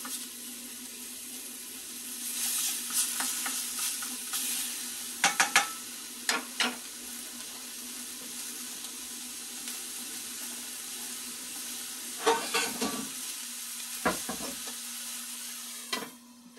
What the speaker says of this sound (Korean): 센 불에서 먼저 굽습니다.